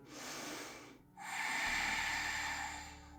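A deep yoga breath, a long airy inhale, a brief pause, then a longer, fuller breath sweeping through, close and soft with no talking.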